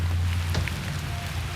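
Rain patters steadily at an island camp, a constant close hiss with a low rumble beneath it and a brief sharper drip or tap partway through.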